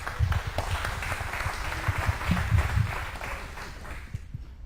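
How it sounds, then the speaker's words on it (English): An audience applauds a pilot and flight instructor after his introduction at a talk, dense clapping that holds steady for a few seconds before tapering off near the end. "Can we have a round of applause for Larry Bothe?"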